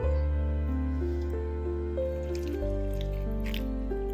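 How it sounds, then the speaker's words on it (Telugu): Water is poured into a mixer grinder jar, making a steady, close gurgling stream whose pitch climbs in steps as the jar fills, heard alone for about four seconds. "కొద్దిగా వాటర్ పోసుకొని మిక్సీకి వేసుకుందాము."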